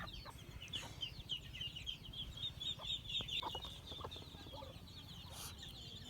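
A flock of large ducks gives a continuous low chatter of clucking, quacking calls at a moderate distance, with higher chirps layered over a steady outdoor background.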